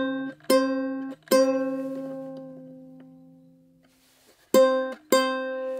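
A ukulele string tuned slightly too high rings out of tune, plucked in pairs of notes with long sustaining decay, two strikes near the start and two more near the end.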